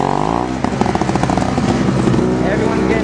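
A snow blower runs during a blizzard, its engine chattering and pulsing steadily at close range, fairly loud and continuous throughout.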